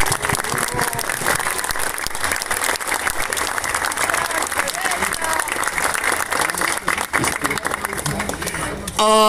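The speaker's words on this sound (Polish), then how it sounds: "duże brawa jeszcze raz dla sztabu." A football crowd at a third-league season finale in Chorzów gives steady, dense applause, mixed with voices and crowd noise, close and loud throughout.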